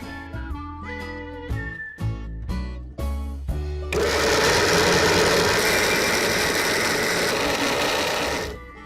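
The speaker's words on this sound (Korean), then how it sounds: "이렇게 손질한 콩을 카트기에 갈면 비지가 되거든요." Kitchen grinder blending boiled soybeans with kelp broth into okara, a loud steady whirring motor roar running continuously for several seconds after a few short knocks and thuds of the jar being loaded.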